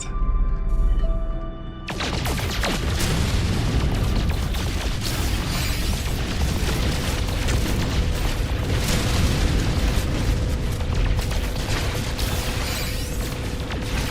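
Heavy, continuous booming impacts batter a ship in No Man's Sky during a corvette expedition, loud dense blasts running almost the whole time after a brief quieter opening.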